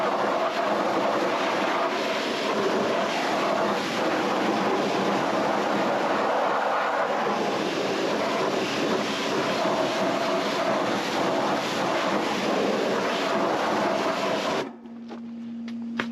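Water spraying to rinse acid wheel cleaner off a car wheel, a steady loud hiss of running water lasting about fifteen seconds before cutting off abruptly near the end.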